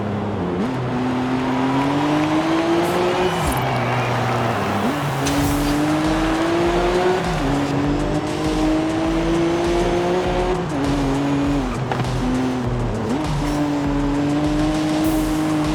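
Vauxhall Lotus Carlton racing in Forza Horizon 5, a loud, continuous engine drone rising and falling through gear shifts, with brief tire squeal through corners.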